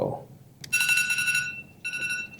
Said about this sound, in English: That's my timer, 10 minutes is up.